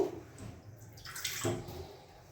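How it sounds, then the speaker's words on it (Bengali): Water poured into a mix of chopped ginger, garlic and green chili for grinding into a paste in a kitchen: a short, close pouring splash and trickle lasting about a second, with no talk. "আর একটু জল অ্যাড করব"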